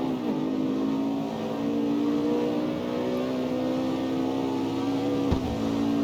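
A car engine in the CarX Street racing game holds a steady, strong drone while accelerating slowly in fourth gear, its pitch creeping upward, with a brief thump near the end.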